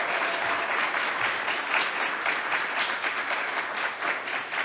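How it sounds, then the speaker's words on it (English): Audience applause at a board installation ceremony for the Greater West Bloomfield organization, steady dense clapping from a crowd filling the room throughout. "let's give her a round of applause"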